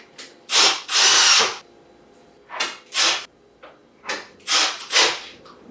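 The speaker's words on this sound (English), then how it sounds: "Just go straight into tightening the actual nut." A power tool drives nuts tight while a star-shaped cat wheel is put together, sounding as six or seven short close whirring bursts of uneven length with brief quiet gaps between them.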